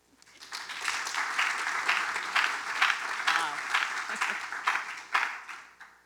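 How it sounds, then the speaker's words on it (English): Applause swells from an audience at a women MBAs association evening event as a guest speaker is welcomed, a dense patter of clapping that builds in, holds steady, then slowly thins. "Someone's very big at clapping."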